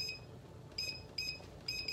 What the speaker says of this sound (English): Set my timer on those for 15 minutes.